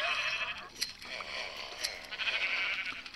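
Sheep in the video game Minecraft bleat repeatedly in short, close, fairly loud calls over a steady background hum.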